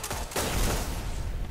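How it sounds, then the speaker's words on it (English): A hand cannon fires in a multiplayer shooter video game: a quick cluster of loud, sharp shots in close succession, with no talk over them. "That's a cool hand cannon."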